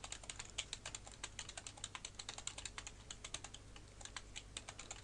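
Rapid, steady typing of commands on a computer keyboard, a dense run of close, crisp key clicks over a low background hum, with no talk.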